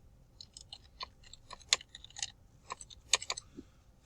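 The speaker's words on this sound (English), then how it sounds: "I can type the password in if I can remember it." Computer keyboard keys tapped while entering a password, a quiet, irregular run of light clicks with brief pauses between bursts, close by and alone.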